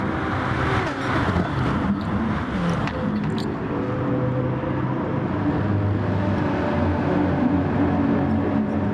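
Race cars lapping Monza in a racing video game make a dense, steady engine roar that holds at a constant loud level for the whole stretch, with no voices.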